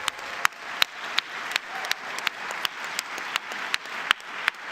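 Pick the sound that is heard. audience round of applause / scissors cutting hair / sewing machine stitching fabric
audience round of applause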